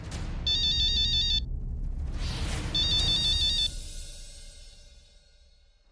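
An electronic phone ringtone plays two bursts of bright beeping tones, then fades out over a dull background rumble.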